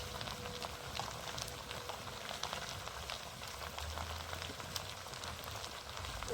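Spiced goat head being sautéed in a pan with salt and Kashmiri chilli, giving a steady, soft sizzling hiss with faint crackles throughout, fairly quiet and continuous with no talking.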